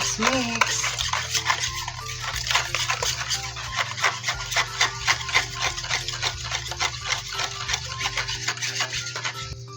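Rhythmic stirring and scraping of banana bread batter just after vanilla is added, a steady run of quick close strokes against the bowl for the whole stretch, with a low background hum and no talk.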